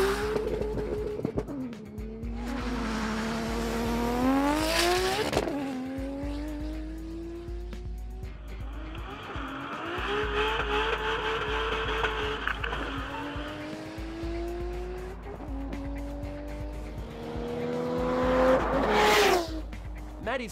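Nissan R32 GT-R race car making repeated runs: engine revs climb and fall through gear changes while tires squeal, loud and close over about twenty seconds with no talk.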